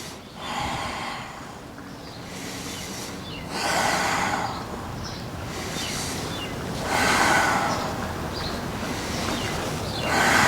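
Slow, audible exhaled breaths during a standing knee-and-ankle dip exercise, three long airy out-breaths at a steady rhythm, close and fairly soft, with no talking.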